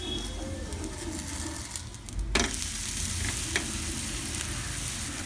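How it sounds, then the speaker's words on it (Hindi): Cucumber roti cooking on a pan over medium flame with a little oil makes a steady, close sizzle throughout, broken by a brief scrape or clatter partway through, while birds coo faintly in the background. "थोड़ा सा ऑयल डालेंगे और थोड़ी देर पकने देते हैं"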